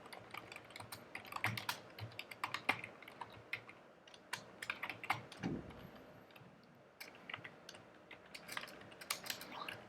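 Steady keyboard typing while writing test code in TestNG, a run of close, crisp key clicks in uneven bursts with brief pauses, no talking.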